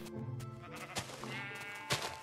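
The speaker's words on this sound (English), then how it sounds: "Sheep." Sheep bleating in the Minecraft video game: several wavering, nasal bleats in quick succession, clear and close, with small clicks between them and no speech.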